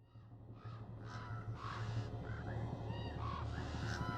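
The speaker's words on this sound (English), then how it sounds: "just as 24 blackbirds rose into the air" A flock of blackbirds calling, with repeated harsh caws and croaking cries overlapping one another at moderate distance, sounding over a steady low hum.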